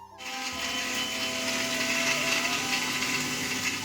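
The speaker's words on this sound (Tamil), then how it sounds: "மிக்சியில் வந்துட்டு ஜாரில் வந்து என்னென்ன அரைக்க போகிறோம் அப்படின்னா, புதினா, இந்த தேங்காய்," An electric mixer grinder whirs as it grinds mint and coconut in its jar, starting up abruptly and then holding a steady, fairly quiet motor buzz with no talking over it.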